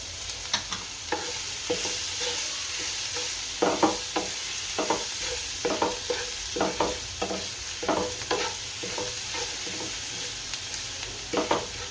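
Garlic sizzles in hot oil for a Gujarati gathiya shaak, a steady frying hiss broken by repeated stirring scrapes and clinks at close range, with no talking.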